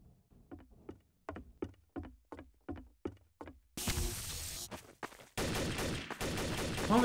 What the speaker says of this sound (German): Oh, wer schießt hier?